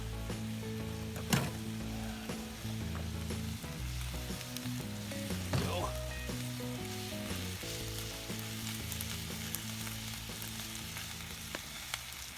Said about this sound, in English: So what I'm gonna do is put it back on the fire, a little more A1 sauce on it so that it gets all the way through.